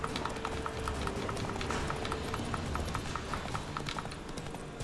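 Roach the horse gallops in The Witcher 3, steady rhythmic hoofbeats in quick repeated clip-clop over a constant low rumble of outdoor ambience.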